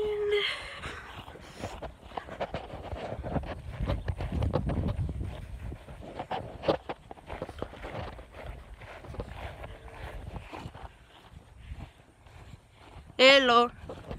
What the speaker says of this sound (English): the neighbor's horses